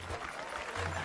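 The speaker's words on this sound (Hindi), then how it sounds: "तालियां बजाओ।" A short burst of applause from a crowd gathered at an outdoor public meeting, fairly soft and fleeting.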